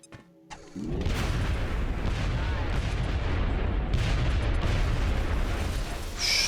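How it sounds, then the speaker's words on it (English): A sustained, roaring explosion in the video game XCOM: Enemy Within hits after a brief click and rumbles loudly and continuously for several seconds. "Jeez, that explosion range is scary."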